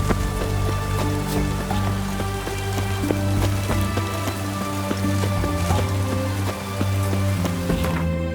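Rain pours steadily in The Witcher 3: Wild Hunt, a dense continuous patter on surfaces, heard alongside a sustained musical drone and tones at a strong, even level without speech.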